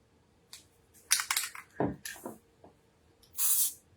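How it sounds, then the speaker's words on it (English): An aerosol spray can used during garment embroidery setup gives several short hissing bursts, separated by handling clicks and rustles, ending in a longer close spray. "It sprayed back at me instead of spraying."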